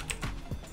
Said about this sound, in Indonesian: Pencet Ctrl Shift Alt E